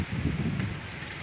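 Strong wind blows through a stink bean tree: a steady, close roar of rushing air and rustling leaves with no pauses and no voices.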